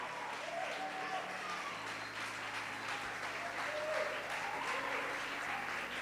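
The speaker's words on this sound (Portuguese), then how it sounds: "dá uma salva de palmas para o Senhor Jesus" A church congregation at a Sunday service applauds together in a steady, dense wash of clapping that holds for several seconds. Faint voices rise within the crowd noise.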